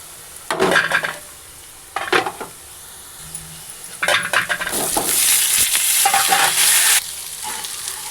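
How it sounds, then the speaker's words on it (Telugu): Goat tripe frying in oil with onions, loud sizzling in bursts with stirring scrapes from a spoon against the pan, building into a steady crackling fry toward the end. "ఇప్పుడు బోటీ వేసుకుందాం."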